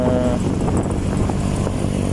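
A motorcycle speeds through city traffic between Pasay City and Mall of Asia, its engine and wind roaring steadily and close for a couple of seconds, with no voices.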